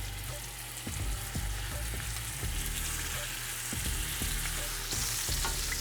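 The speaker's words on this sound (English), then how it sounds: "I'm going to now sear my short ribs." Short ribs searing in a hot pan give a steady, loud sizzle and crackle with periodic clinks and scrapes as the meat is moved, close up and with no talking.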